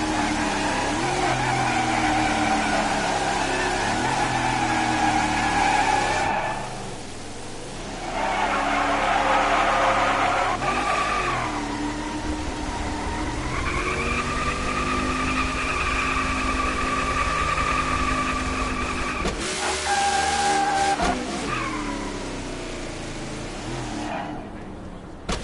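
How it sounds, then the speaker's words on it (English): A NASCAR Cup Series car at Las Vegas Motor Speedway roars through a burnout, its engine holding a loud sustained drone with shifting pitch and squealing tires, the note dipping and surging in several bursts. "it's not gonna be the best burnout"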